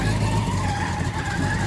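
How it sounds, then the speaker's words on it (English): A 1970 Chevy Blazer's tires squeal and skid in a continuous loud screech over its rumbling engine, steady for the whole stretch. "It'll spin the tires though."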